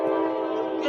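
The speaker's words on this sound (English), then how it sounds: "Sorry about the train." Train passing close behind a house, a steady loud horn-like tone held throughout the short moment with no voices.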